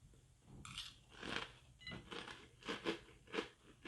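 Close, rhythmic crunching of someone chewing Cinnamon Toast Crunch cereal, several bites in a row with quiet pauses between.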